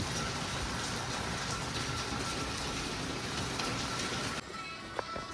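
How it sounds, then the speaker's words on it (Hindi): Heavy non-stop monsoon rain on a hill road, a dense, continuous hiss of downpour that holds steady and drops slightly softer near the end, with no speech. "लेकिन बारिश रुकने का नाम नहीं ले रही है, नॉन स्टॉप चल रही है"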